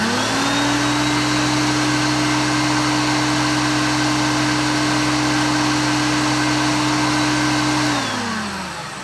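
A Hoover Concept One vacuum cleaner runs steadily on an airflow box, a loud continuous motor whine with a strong low hum, holding constant for about eight seconds before starting to wind down at the end.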